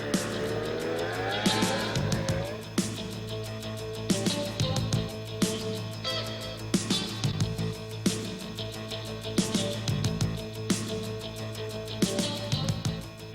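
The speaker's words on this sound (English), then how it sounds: "Yamaha's original Phazer has been the most popular and versatile snowmobile ever." Yamaha Phazer snowmobiles riding, a steady engine drone under a music bed with recurring sharp bursts and swells as the sleds pass, fairly loud throughout.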